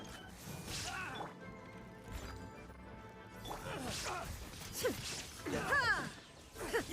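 Video game sound effects of an illusion shattering: crashing, shattering bursts and whooshes, several sharp impacts building toward the end, loud and close.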